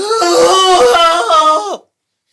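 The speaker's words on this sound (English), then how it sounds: "out of his head, we hear Xavier's scream" A man performs a character's drawn-out, anguished scream aloud during a tabletop fantasy role-playing session, a loud wavering wail that bends downward and cuts off abruptly into silence.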